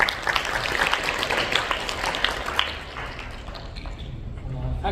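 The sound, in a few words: applause welcoming the speaker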